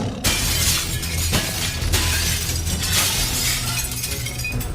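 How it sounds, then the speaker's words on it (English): Glass shatters all around a house in a series of loud crashing bursts, one breaking wave after another over a continuous tinkling, splintering wash. "the sound of glass breaking all around the house rang out"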